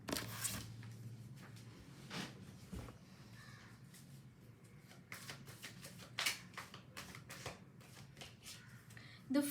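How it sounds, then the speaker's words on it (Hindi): Tarot cards gathered up after falling and handled in a deck, giving repeated quick papery flicks and shuffling clicks at close range, with no talk. "आपके कार्ड्स नीचे गिर गए, let me pull them up."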